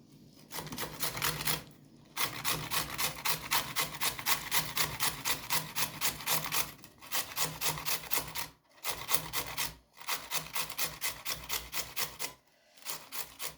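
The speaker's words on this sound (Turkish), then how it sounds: "Havuçlarımızı da rendeleyelim." Steady rhythmic rasping of carrots being grated, rapid repeated strokes close up, with a few brief pauses between bursts; no talking.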